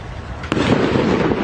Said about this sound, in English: that's a firework obviously on the right